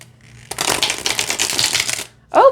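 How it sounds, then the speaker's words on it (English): A thin houseplant tarot card deck is riffle-shuffled, a loud close flurry of rapid papery fluttering clicks lasting about a second and a half, followed by a brief voice. "shuffles just fine"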